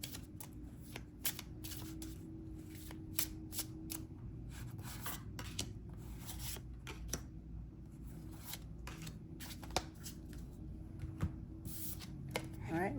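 Botanical oracle cards are shuffled by hand in a quiet room, giving a steady run of soft riffling and slapping strokes close to the mic over a low background hum.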